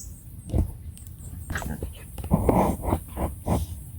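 Dogs snuffle, pant and give short yips and whines close by, in uneven bursts with brief pauses between them.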